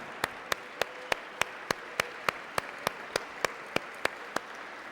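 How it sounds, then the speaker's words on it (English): Regular, evenly spaced claps, about three per second, ring out sharply over a low background hush in a hall, a steady rhythmic round of applause at an evening lecture on dialogue and management. "Let's give Brother Dr. Abdul Alim Muhammad another warm round of applause."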